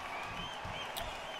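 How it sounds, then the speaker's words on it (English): Crowd cheering and clapping in the background of a boxing video game, a continuous, fairly faint arena roar with a brief brighter burst near the end. "You guys can hear the crowd in the background as well."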